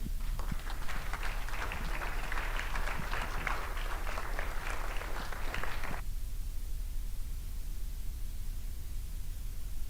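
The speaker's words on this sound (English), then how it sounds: "Your applause will be much appreciated." A crowd at a college foundation student event claps steadily for about six seconds, a dense, moderately distant patter that then cuts off abruptly, leaving only quiet room tone.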